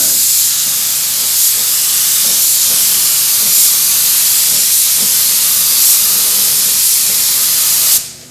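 Spray gun laying candy orange paint over a car: a loud, steady hiss of spraying air that runs continuously for about eight seconds and then cuts off abruptly, with no voices.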